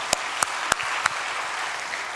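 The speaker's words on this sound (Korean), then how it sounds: "우리 김동현 목사님, 우리 지고 목사님들 큰 박수로 한번 격려해 주시기 바랍니다." A church congregation at Hanbat First Church applauds its pastors. A few sharp, close hand claps stand out at the start over a broad, even wash of clapping from the crowd.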